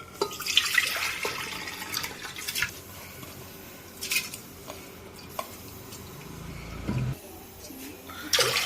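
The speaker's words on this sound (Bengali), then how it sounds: "দিয়ে দিচ্ছি পরিমাণ মতন জল।" Water poured into a pressure cooker holding washed fried mung lentils, a soft running splash with light clinks of a pot, fairly quiet and close, with no talking.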